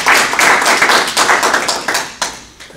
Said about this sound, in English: I assume that's clapping for her.